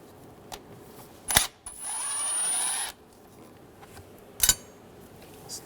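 Hand tool pulling a screw from an intake manifold runner lever bracket on a 2006-2009 Mercedes-Benz E350 with a 3.5L V6, giving a few short sharp clicks and a steady buzzing whir of about a second, close by with no talk.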